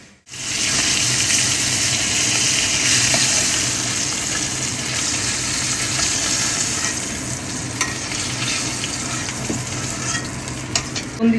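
Hilsa fish frying in oil in a kadai, a dense, steady close sizzle and crackle running throughout with a few light clinks, no voices.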